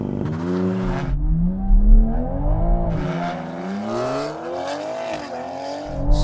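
A Toyota Supra MK4 revs hard on launch control, then launches and pulls away, its engine note climbing and falling through gear changes, loud and close with no talk over it.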